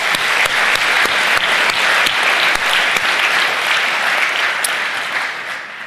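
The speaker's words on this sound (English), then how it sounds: "One more round of applause for them." Sustained applause fills a civic meeting hall, a dense, steady wash of many hands clapping at close range, loud and continuous before tapering slightly at the end.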